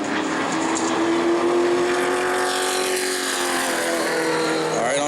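A super late model stock car roars around the New Smyrna short track in qualifying, its loud, high-pitched engine note sustained and shifting as it passes, with no talk.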